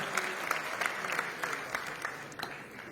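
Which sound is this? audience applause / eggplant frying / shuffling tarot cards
audience applause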